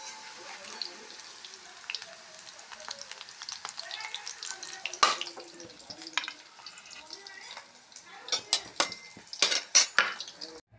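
A spoon scrapes and clinks in a pan of hot oil while fried cauliflower is lifted into a dish, with sharp metallic taps and scoops over a low, ongoing sizzle, growing busier toward the end.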